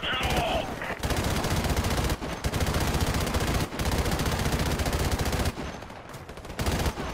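Sustained automatic gunfire in Call of Duty 4: Modern Warfare Remastered, a loud dense stream of machine gun bursts with brief pauses, ending in a scattered exchange of shots.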